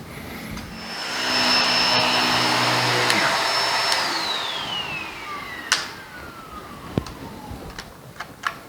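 A Bissell Pet Hair Eraser Turbo Plus vacuum hums loudly, then its motor winds down with a falling whine, followed by a few sharp plastic clicks and knocks.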